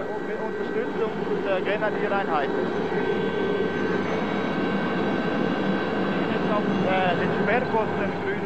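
Aircraft cruising over the main road into Davos in the Swiss Alps, a steady loud engine drone filling the whole clip with a continuous broad roar and faint higher whines, no pauses.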